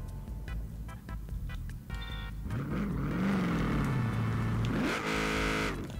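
Upgraded Nissan 240 engine in Forza Horizon 4 revving hard, pitch climbing and dipping through sustained loud revs with a final surge, alone with no talk.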